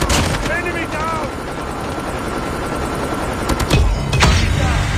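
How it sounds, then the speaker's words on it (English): Stealth helicopter rotor drone in Call of Duty runs under bursts of gunfire and chattering game radio voices, with sharp louder shots near the end. "Stealth chopper inbound."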